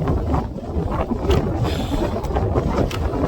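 Strong wind gusting across the open bald of Max Patch mountain on the Appalachian Trail during a wind advisory, a continuous loud roar and buffeting against the microphone with no speech.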